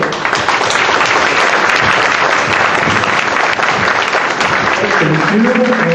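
Dense, steady audience applause fills a citizens' meeting hall, loud and continuous throughout, with a few voices briefly audible toward the end.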